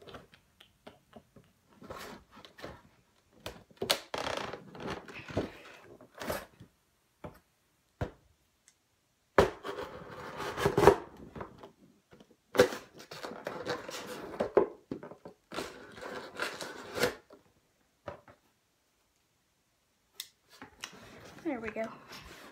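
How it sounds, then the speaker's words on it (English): Knife slicing open a Pokémon trading card pack, heard as a series of sharp ticks and snips in bursts with brief pauses, close up, interspersed with short crinkly rustles of the foil wrapper. "We'll just make it easier and use the knife here."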